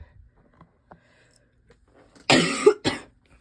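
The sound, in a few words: coughing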